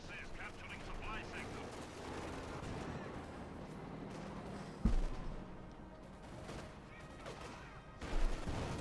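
Field gun firing in Company of Heroes 2, an OKW versus Soviet match, with two heavy booms near five and eight seconds over a dense bed of battle gunfire and talk.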